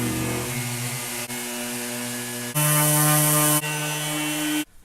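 Power sander running a 100 grit Diablo sandpaper disc on wood, a steady loud whine that shifts pitch partway through, then cuts off abruptly near the end.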